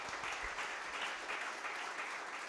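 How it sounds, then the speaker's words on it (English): Steady audience applause after a pair of conference speakers finish a tech talk, dense and continuous clapping filling the room throughout. "Round of applause for both our first speakers."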